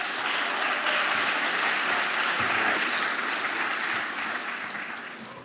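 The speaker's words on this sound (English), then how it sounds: "give a nice round of applause for all of you for coming out to the show tonight" An audience at a speech competition in Indianapolis gives a sustained round of applause, a dense, even wash of clapping at full strength that tapers slightly toward the end.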